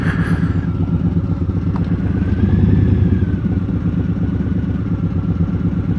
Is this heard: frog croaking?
no